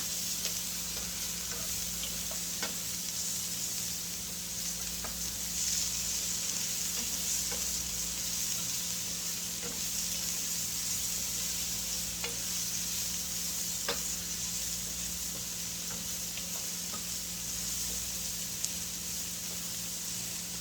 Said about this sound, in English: the garlic is already getting brown, so this is almost done